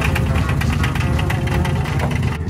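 A 1955 Chevy engine runs steadily at close range as the car backs out of a shop, a dense low rumble with rapid knocking pulses that stays loud throughout without speech.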